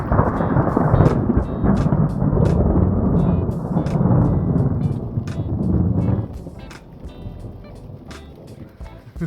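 Heavy rain pours down hard during a thunderstorm on a road trip toward Santa Cruz, with dense steady roar, crackling thunder rumbles throughout, and sharp drops pattering on a surface, easing slightly near the end.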